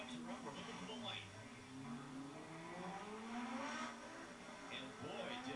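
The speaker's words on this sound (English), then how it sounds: "The revs are up." Import and domestic drag cars, including a 1992 Honda Civic, rev their engines at the start line at Sacramento Raceway, with rising and falling engine tones held under an announcer's steady commentary.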